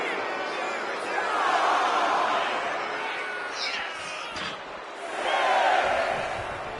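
Arena crowd in the WWE 2K25 wrestling game swelling into cheers for Khali, two broad rising waves of roaring noise under a commentator's continuous talk.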